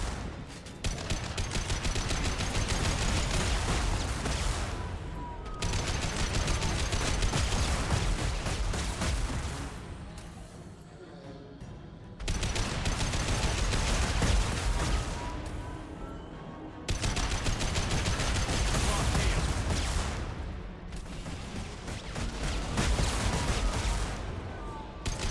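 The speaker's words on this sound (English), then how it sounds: "I'm gonna take out my assault rifle." Long sustained bursts of assault rifle fire in the video game Mass Effect 2. Four loud, dense volleys are separated by short lulls of quieter combat noise.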